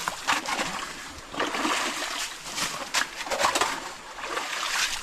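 Irrigation water runs fast through a rice field, a close, busy splashing and gurgling that swells and eases in uneven surges, with faint bird calls in the background.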